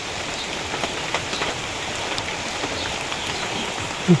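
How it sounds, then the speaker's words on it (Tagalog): Steady rain falls on a field of planted crops, a constant close hiss with soft patters and drips throughout, without voices. "Inulan na po yung aming mga tanim."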